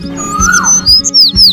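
Cartoon sparrow and cuckoo chirp in quick, high bright tweets and short sweeping calls, set against soft low thumps and a steady background tone, with no voices.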